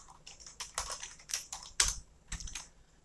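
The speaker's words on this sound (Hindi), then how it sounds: "अब जैसे यहाँ पे कुछ टेक्स्ट लिख लेते हैं" Text is typed on a computer keyboard in short bursts of close, crisp key clicks with brief pauses between them, and no one speaks.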